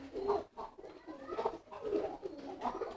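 Pigeon cooing in repeated soft, low murmuring phrases, fairly faint and close, with some rustling between calls and no talk over it.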